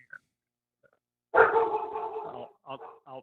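A dog barks and growls irritably at close range, one long rough outburst followed by a couple of shorter yips after a pause; a person is talking nearby.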